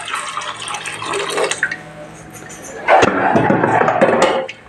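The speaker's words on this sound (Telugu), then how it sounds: "ఇంకా మనం కొంచెం వాటర్ వేస్తున్నామండి." Water poured into a cooking pot on the stove, a splashing, gurgling pour that swells at the start, eases off, then surges again louder and steadier near the end.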